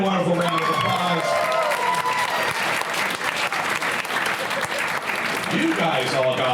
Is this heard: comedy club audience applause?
yes